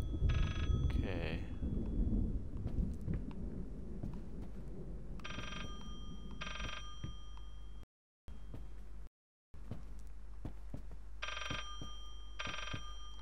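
A telephone rings in the horror video game Layers of Fear, in repeated short bursts of bright, bell-like tones separated by pauses, over a steady low ambient hum.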